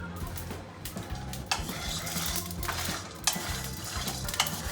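Whole cumin, coriander, cardamom, cinnamon, cloves, peppercorns and Kashmiri red chillies dry-roast over a low gas flame, giving a faint crackle with frequent scrapes and clinks of a utensil stirring in the pan.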